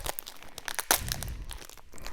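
A sharp knife cuts open plastic wrapping around bareroot fruit and nut trees, giving close crinkling and tearing rustles with one sharp snap partway through.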